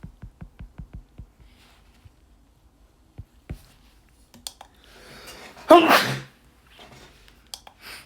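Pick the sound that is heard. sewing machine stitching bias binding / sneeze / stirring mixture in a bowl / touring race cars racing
sneeze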